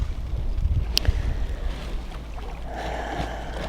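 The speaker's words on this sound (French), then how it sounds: "J'entends les vagues, il y a le vent, il fait froid, mais il fait soleil." Waves lap the shore of a lake on a cold, sunny day while a steady wind rumbles and buffets the microphone, a continuous close, rushing noise with no voices.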